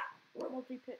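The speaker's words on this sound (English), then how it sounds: "if you hear my dog barking in the back" A dog barks faintly in the background, about three short barks in a row, under someone talking over a Subnautica session.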